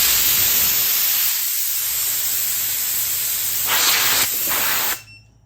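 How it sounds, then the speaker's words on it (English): Compressed air rushes out of an air compressor tank in a loud, steady hiss that surges briefly near the end and then cuts off abruptly. "So we gotta get the air out of the tank so it'll kick in."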